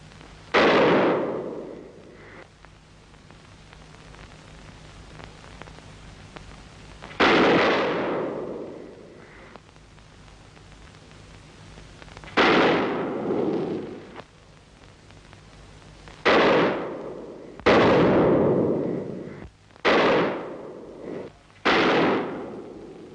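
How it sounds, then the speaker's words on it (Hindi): Gunfire in a 1952 Bollywood film scene, with sharp shots ringing out one at a time, first with long gaps between them and then in a quicker run near the end, over a low steady background hiss. "गोली चलाना बंद कर दो।"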